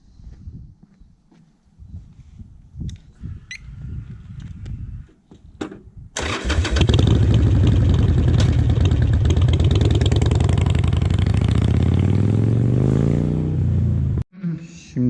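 A motorcycle engine, being fitted with a Vance and Hines Fuelpak FP3, cranks and fires up after some speech and shuffling, then settles into a loud, steady, close idle with a brief dip near the end.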